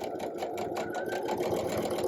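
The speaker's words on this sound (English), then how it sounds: "I'm just going to quickly run these all through the machine without cutting in between" A sewing machine chain-stitches small quilt pieces for a mini Irish chain quilt, running steadily without stopping between pieces, a close, continuous whirring hum with no talk over it.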